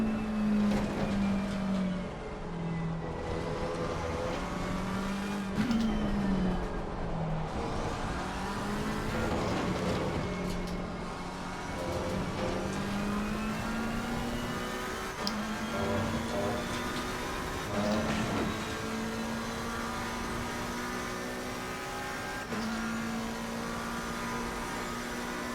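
Race cars in Assetto Corsa Competizione at Paul Ricard give a loud continuous engine whine that rises and drops repeatedly with gear changes and corners, alone with no talk.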